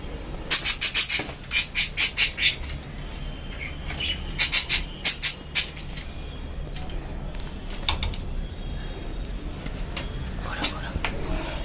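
Budgies chirping and squawking in quick sharp bursts, close and loud in the first half, then quieter with a few scattered calls as the birds are let into an aviary.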